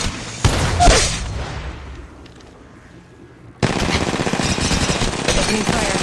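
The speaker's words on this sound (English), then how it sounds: "Opening fire." Gunfire in Apex Legends during a sniper-and-pistol-only match, a loud sharp shot opening the clip, a quieter lull, then a sustained dense wash of battle noise and shooting.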